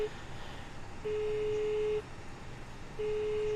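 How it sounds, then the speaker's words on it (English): An intercom phone rings in the airliner game Self-Loading Cargo, a steady electronic tone pulsing in roughly one-second bursts separated by equal pauses, heard alone over a low cockpit hum. "then it's ringing until she picks up"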